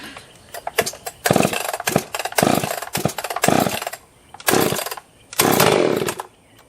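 A Husqvarna 261 62cc chainsaw with a freshly rebuilt carburetor is pull-started cold: a run of short pops and sputters, then several brief loud revving bursts with pauses between them, close by and without talk.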